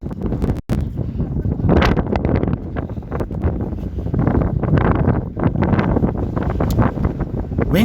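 Strong wind buffets an outdoor microphone at the Cliffs of Moher, a loud, continuous roaring rumble with gusting surges and rustling bursts throughout, with no other sound rising above it.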